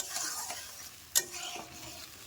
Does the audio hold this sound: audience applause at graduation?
no